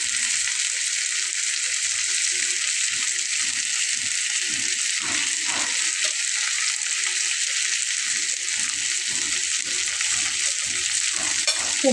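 A fish head fries in hot oil in a pan, giving a loud, steady sizzle throughout with soft stirring scrapes now and then and no voices.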